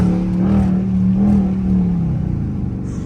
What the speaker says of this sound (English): I'm gonna let y'all hear the engine, man.